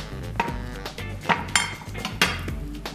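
Plates and dishes handled in a home kitchen while food is being plated, giving several sharp ceramic clinks and knocks at irregular intervals over a low background hum, close and moderately loud.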